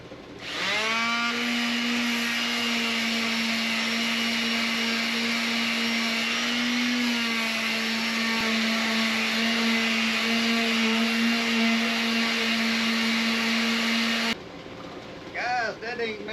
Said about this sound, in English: if this little sander here don't take off enough